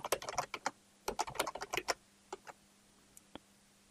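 Fingers type on a computer keyboard while a name is entered into a web form, giving two quick bursts of close, crisp key clicks followed by a few sparse taps as the typing trails off.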